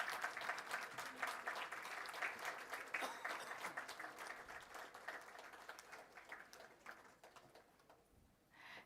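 A seated audience at an awards ceremony breaks into sustained applause to welcome the chief guest, dense and continuous clapping throughout that gradually thins toward the end.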